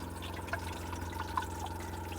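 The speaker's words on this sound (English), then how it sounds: "Let's go ahead and put some water in it to see how well it holds water." Water runs and trickles into a campervan toilet cassette, a soft steady pour with faint dripping accents, fairly quiet and with no talking.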